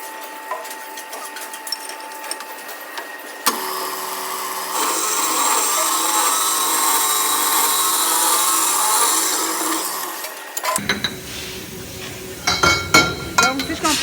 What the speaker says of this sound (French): on met notre machine en marche et ça effectue la coupe de la pièce